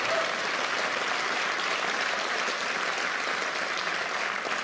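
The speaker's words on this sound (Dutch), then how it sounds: "Geef ze een applaus voor wie ze zijn en wat ze gedaan hebben." Steady, dense applause from a large audience at a comedy class radio finale, sustained loud and even for the whole stretch with no individual claps standing out.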